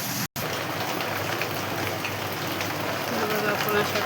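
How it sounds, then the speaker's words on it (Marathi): Heavy rain falls outdoors as a steady, dense wash of patter that stays fairly loud throughout, with a brief dropout near the start and a voice speaking over it. "पाऊस तर खूप आहे चालू होता"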